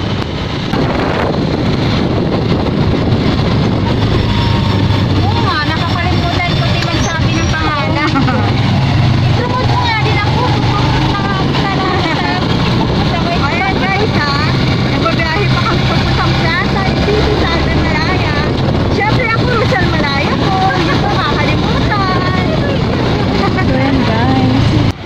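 Motorcycle ride to a plaza market, the engine a steady rumble under heavy wind buffeting and road noise for the whole stretch, with occasional voices mixed in.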